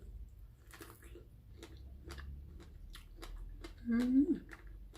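Fresh strawberries being chewed, soft, wet, regular crunches, close and quiet, with a brief voice near the end.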